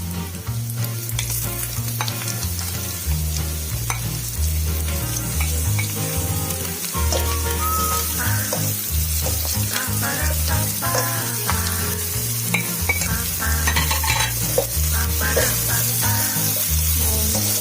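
Beef and mushrooms frying over slow medium heat in a pan, a continuous loud sizzle with repeated stirring scrapes throughout, accompanied by steady background music.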